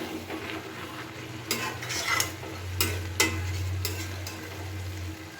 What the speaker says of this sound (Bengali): আলুটা আরেকটু হবে, তাই খোলা অবস্থায় আমি আবার একটু ভালো করে নাড়াচাড়া করে নেব।